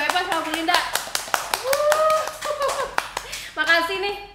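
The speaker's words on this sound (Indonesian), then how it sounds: "Boleh tepuk tangan dong buat Bu Eva sama Bu Linda." A few people clap in scattered, sharp hand claps during an informal school staff chat, mixed with speaking voices that run over and between the claps.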